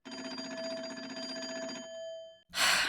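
An old-fashioned coin telephone on a porch rings in the Nancy Drew game Secret of the Old Clock, a sustained metallic bell trill lasting nearly two seconds, fairly close and clear, then stopping before a brief burst of noise.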